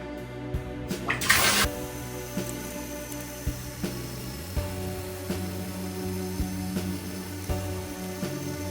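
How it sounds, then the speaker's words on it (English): Bathwater running from the tap into a bathtub, a loud rushing splash at first that settles into a steady, moderate pour with occasional small clunks nearby. "So the bath is now full of water."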